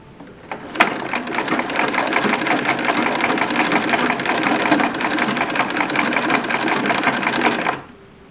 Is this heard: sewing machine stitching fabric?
yes